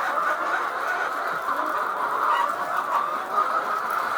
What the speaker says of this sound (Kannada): ಆ ಕಡೆ ಇರುವ ಕೋಳಿಗಳು ಕೂಡ ನೀರು ಬೇಕು ಅಂತ ಕೇಳ್ತಾ ಇದ್ದ ತರ ಇದೆ ಅವುಗಳದ್ದು ಕೂಡ